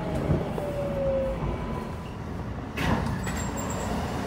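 A New York City subway 4 train bound for Woodlawn rumbles along the track, a steady loud roar with a brief squeal early on and a swelling rush near the end, with no voices.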